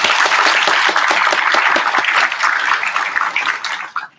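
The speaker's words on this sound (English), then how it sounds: "round of applause to them." An audience at a transportation event at Tampa International Airport gives a dense round of applause, loud and sustained for several seconds before tapering off.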